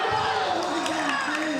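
A crowd at a classic Tetris tournament cheers and roars after a player maxes out, a broad, sustained swell heard under commentators talking over it.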